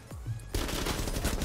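Gunfire in Rainbow Six Siege: after a short quiet lead-in, a sudden loud burst of rapid shots erupts and continues densely to the end, close and sharp.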